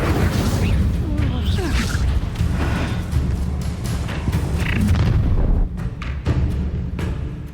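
The Incendio fire spell is cast in Hogwarts Legacy, a loud, dense burst of booming, whooshing magic and crashing impacts that continues through the clip amid game combat noise.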